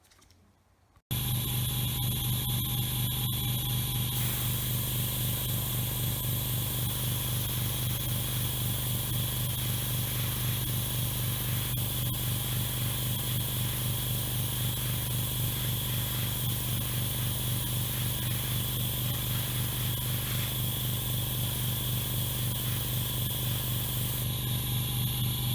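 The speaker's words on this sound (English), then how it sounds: "I'm just going to airbrush straight over it with a low air pressure" Airbrush spraying paint at low air pressure over a salted Bandai Star Wars Y-Wing model part, a steady close hiss that starts after a brief quiet moment and runs unbroken to the end.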